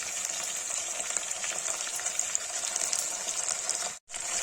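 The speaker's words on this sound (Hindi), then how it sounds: "इसको चला देंगे। हल्का से भून जाएगा" Potatoes with salt frying and being stirred in a pan for a homemade tomato-potato curry, giving a loud, continuous hissing sizzle with a brief dropout near the end.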